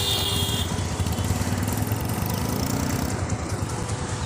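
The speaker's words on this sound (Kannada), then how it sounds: "ಸ್ಕೂಟಿನ ಇಸ್ಕೊಂಡು ಈಗ ಮನೆ ಕಡೆಗೆ ಹೊರಟಿದ್ದೀವಿ" A scooter engine drones steadily on the ride home, a constant close buzzing hum with no breaks throughout.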